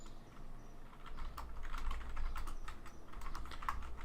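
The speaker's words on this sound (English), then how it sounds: "Just gotta do some typing," Fingers tap steadily on a computer keyboard, a quick irregular patter of close, fairly quiet keystrokes with a low background hum and no voices.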